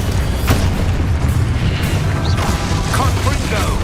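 An Expulso explosion spell in Hogwarts Legacy bursts with a loud deep boom and crashing impacts, thick low rumble filling the moment around a sharp blast.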